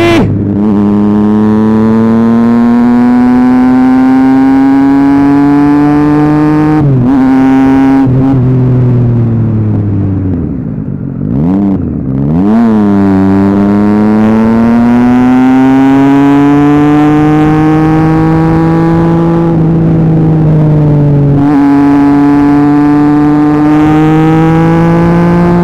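A Triumph Street Triple 675 motorcycle running with no exhaust revs hard and loud on a ride, a strong harmonic engine note rising and falling through several gear changes, with brief dips in pitch between pulls.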